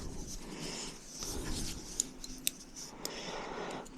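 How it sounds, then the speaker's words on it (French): Small scissors snipping thread during cross stitch embroidery: a few quiet, sharp metallic clicks and light rustling of fabric and thread, close but faint, with no talking. "Alors, ma paire de ciseaux."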